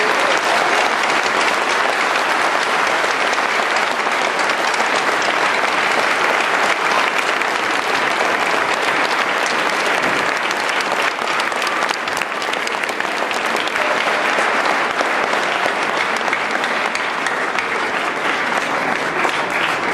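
A large crowd applauds after a live concert, loud, dense and continuous for the whole stretch, a wash of clapping that barely varies in level.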